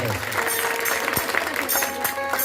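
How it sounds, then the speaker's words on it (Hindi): Audience clapping at a Holi celebration folk performance in Mithila, a dense patter of hands with crowd murmur and some voices over it. "तो अगर पसंद हो तो एक बार जोरदार ताली के साथ है।"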